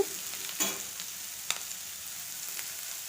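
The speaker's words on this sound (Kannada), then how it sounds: "ಮೆಣಸು ಜೀರಿಗೆ ಬೆಳ್ಳುಳ್ಳಿ ಈರುಳ್ಳಿ ಎಲ್ಲ ಕಲರ್ ಬರಬೇಕು ಒಂದು ಸ್ವಲ್ಪ ಕಲರ್ ಬರೋವರೆಗೂ ಸ್ವಲ್ಪ ಫ್ರೈ ಮಾಡ್ತಾನೇ ಇರಿ" Pepper, cumin, garlic and onion fry in a pan for a jeera pepper sambar, a steady close sizzle with a few brief stirring scrapes and clinks, no voices.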